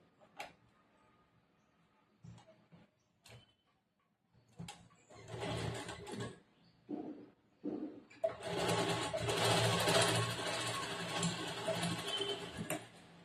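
Sewing machine stitching a lined blouse with a border: short bursts of stitching start and stop, then a long steady run of loud, close whirring, with no talking.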